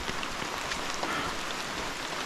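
Steady rain falls in a Costa Rica rainforest at Heliconias Rainforest Lodge near the hanging bridges, a continuous dense hiss of drops pattering on leaves and surfaces, close and even throughout with no voices.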